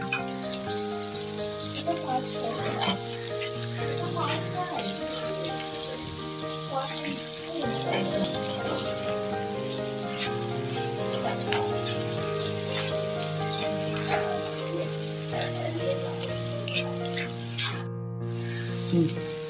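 Tomatoes and onions cooking in a pan for a potato bhaji, a steady low sizzle with scattered clinks and stirring sounds running throughout, no voices.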